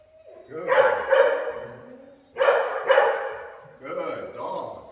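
Small dogs bark while playing, in three bursts of two or three sharp, close barks with short gaps between them, loud and clear.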